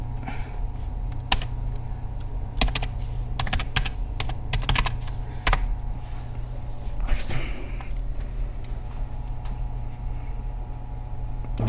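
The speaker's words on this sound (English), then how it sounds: "And we just type my password." A password being typed on a computer keyboard, with irregular clusters of crisp key clicks close by over a steady low hum.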